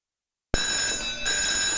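An electric fire alarm bell in a vintage 16mm educational film rings loud and continuous, starting abruptly and jangling without pause, with a slight shift in tone partway through.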